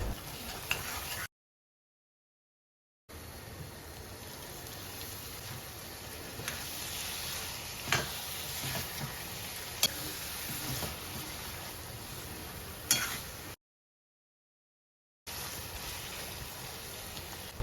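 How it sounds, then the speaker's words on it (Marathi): Onion and masala fry in oil in a kadhai for a cluster bean and potato dish, giving a steady, close, rain-like sizzle with faint stirring. It cuts out briefly twice, with no talking. "त्याच कढईत कांदे आणि मसाला तळण्यापुरता तेल घालूया।"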